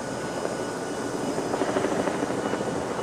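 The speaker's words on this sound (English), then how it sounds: "Where's our helo? There we are. Coming in for the approach." A navy helicopter approaches a supply ship at sea, its rotor thump rising from a steady distant roar to a louder, pulsing beat as it nears, with no voices.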